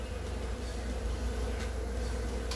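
Bees, including princesses and drones, arriving at a hive, a low steady buzzing drone that holds close and continuous for a couple of seconds without talk.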